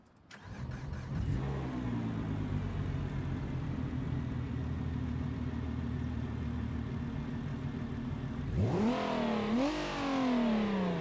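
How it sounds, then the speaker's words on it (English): A Ford Mustang's V6 engine in the BeamNG video game cranks and starts, settling into a steady mid-pitched idle, then revs up sharply twice near the end; no talking. "it actually has a good startup sound, especially for a V6"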